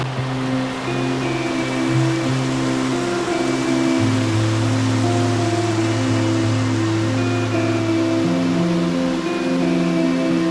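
Rushing water at the top of Wang Phu Kaew waterfall in Korat, a loud continuous roar close by, with steady low engine-like hums layered beneath and no voices.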